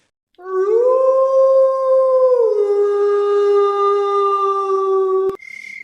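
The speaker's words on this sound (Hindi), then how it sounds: "दूर कहीं सियारों के रोने की आवाज सुनाई दे रही है।" Jackals howl far off at night in a 2D cartoon story setting, one long sustained wavering howl that holds steady for about five seconds before cutting off abruptly, followed by a brief higher tone.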